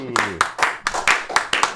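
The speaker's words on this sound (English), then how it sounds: "And the crowd goes wild." Quick, evenly spaced hand claps, about seven sharp bursts in under two seconds, ring out close and loud with a brief voice tone at the start, like studio applause on a talk show.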